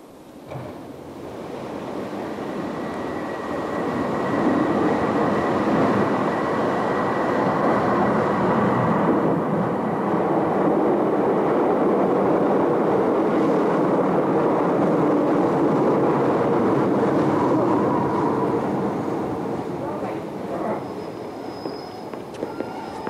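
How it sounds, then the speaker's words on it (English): A Class 150 train bound for Exeter approaches Dawlish Station along the seaside sea wall with waves washing over it, heard as a broad, continuous rumble that swells and holds, then slowly fades, with surf and wind mixed in. "an Exeter-bound Class 150 braves the water as it approaches Dawlish Station"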